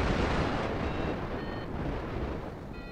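Steady, heavy wind roar buffets the microphone while paragliding in mountain air near Mont Blanc, a continuous loud rushing that fills the whole clip with no voices.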